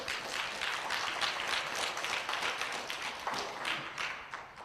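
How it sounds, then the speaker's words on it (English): An audience at a hip hop history talk claps in a round of applause, a dense, fairly quiet patter of many hands that carries on steadily and tails off near the end. "Let's give him a round of applause."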